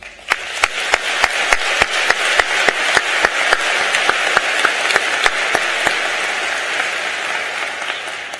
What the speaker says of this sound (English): And so we clap for you too